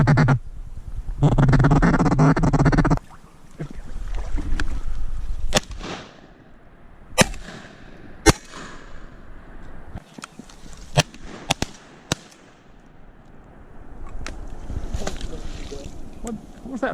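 Shotgun shots while duck hunting mallards and gadwall in North Carolina: several sharp, loud bangs spaced a second or so apart, with duck quacking and people talking heard earlier.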